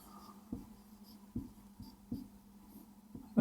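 Pen writing out construction steps by hand for a Class 10 geometry problem, a series of soft scratchy strokes at irregular intervals, close and quiet.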